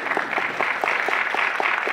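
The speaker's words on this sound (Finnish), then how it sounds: "Aplodit Markolle" A crowd applauds at the opening ceremony of the Matsucon 2017 anime convention, with a brief, even burst of many clapping hands heard from the hall.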